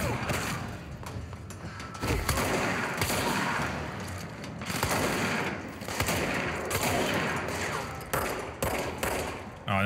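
Dense video game gunfire, with rapid volleys and heavy thuds, runs almost continuously at a steady loud level, mixed with other game noise and occasional talking.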